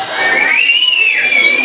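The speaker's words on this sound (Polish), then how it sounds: "Chłopaki umią gwizdać?" A shrill, sustained whistle from boys that wavers and slides in pitch, with a crowd of children shouting and cheering beneath it at a family festival.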